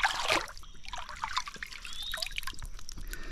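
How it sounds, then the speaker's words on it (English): Water trickles and splashes while mud is rinsed off a large geode outdoors in the wilderness, a close, steady dribbling stream with small drips throughout. "Get it all rinsed off."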